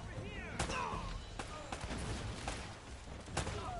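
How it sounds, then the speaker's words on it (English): Gunfire in the video game Uncharted: Drake's Fortune: a quiet burst of scattered shots and sharp cracks rings out over a busy game soundscape, with no one speaking. "more shooting."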